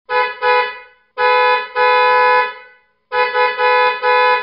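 Loud, harmonically rich snail-type car horns blaring in repeated blasts: a couple of short toots, two long honks, then a quick series of rapid beeps.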